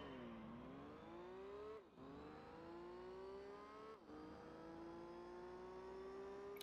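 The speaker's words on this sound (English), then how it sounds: "I'll let y'all hear the car sounds a little bit" A racing engine in Gran Turismo 3 whines and climbs through its revs during a 400-metre dash, briefly dropping at two gear shifts before rising again, loud and continuous with no talking.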